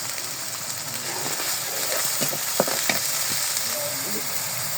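An onion, cumin, garlic and ginger masala fries in a pan with a continuous close sizzle, broken by a few sharp clicks of stirring near the middle.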